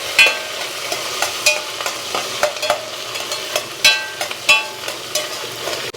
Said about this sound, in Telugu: తర్వాత ఫస్ట్ అల్లం వేసుకోండి, తర్వాత పచ్చిమిర్చి, కరివేపాకు, ఉల్లిపాయ. ఇదంతా సిమ్లోనే వేస్తున్నాను.